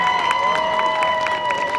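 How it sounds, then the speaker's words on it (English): Steady crowd noise at a high school football game between MVHS and RCHS, with cheering and scattered applause from the stands for a girls' state-title team, continuous and fairly loud with faint voices. "Big round of applause there"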